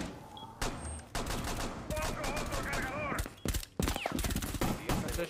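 Gunfire striking the ground in a shooter video game, a rapid series of sharp shots and impacts in bursts, fairly close and loud, with a voice talking briefly in between.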